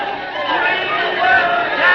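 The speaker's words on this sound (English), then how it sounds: "Oh, listen to that crowd." A crowd murmuring and chattering as a sound effect in a 1943 radio drama about Dan Peters and Casey Jones, a steady babble of many voices at moderate distance, swelling slightly.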